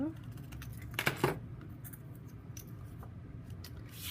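Scissors trimming a small piece of paper for a handmade greeting card, a couple of quick close snips over a faint steady background hum.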